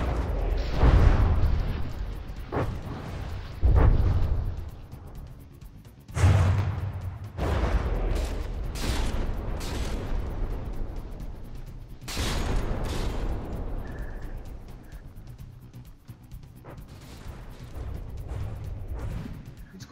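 Ship guns fire volley after volley in the naval combat game From the Depths, with heavy booming blasts, rumbling impacts and crackling bursts coming back to back over twenty seconds, loud and close and with no voices.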